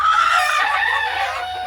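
Aseel hens on a poultry farm cluck and call steadily at close range, a continuous loud stretch of overlapping fowl voices with no talk.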